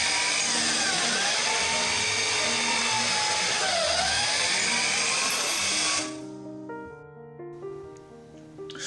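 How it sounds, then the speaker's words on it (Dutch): A power drill bores holes roughly 8 mm wide into small wooden pieces for an insect hotel, its steady high whine running for about six seconds before winding down. "Ik boor in elk stukje een paar gaatjes."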